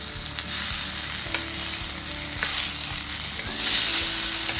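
Chopped tomato frying with softened onions in a pan, a steady close sizzle with a low background hum and brief louder surges as the pan contents shift.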